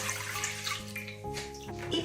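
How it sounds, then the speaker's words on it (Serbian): Milk is poured from a container into a cooking pot while making a Spanish wind meringue cake filling, giving a steady close liquid splash and gurgle for about two seconds with no talking. "Zatim uzimamo šerpu i sipamo ovaj ostatak mleka"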